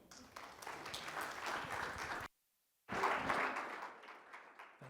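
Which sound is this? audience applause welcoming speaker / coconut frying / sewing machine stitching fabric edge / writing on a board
audience applause welcoming speaker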